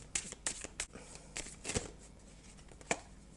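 Tarot cards shuffled and dealt onto a surface, a series of crisp riffling snaps and soft slaps, close and quiet, with no voices.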